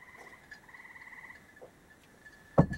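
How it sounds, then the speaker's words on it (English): Frogs sing in a steady high-pitched chorus of trills outdoors, moderately distant, ending with a sudden loud thump near the end. "Get out there and enjoy your frog song."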